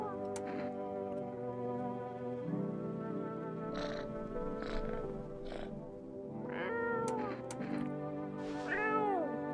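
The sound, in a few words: cat meowing in the video game No, I'm Not a Human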